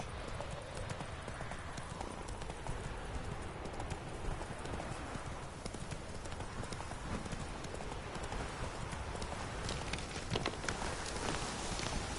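Roach the horse galloping in The Witcher 3, a fast, continuous clip-clop of hooves under dense, noisy ambience, steady and close throughout.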